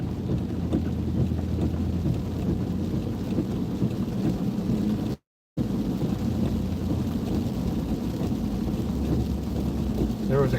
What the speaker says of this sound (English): And you don't hear the rain as loud as you did at the other house.